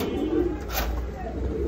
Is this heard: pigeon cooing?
yes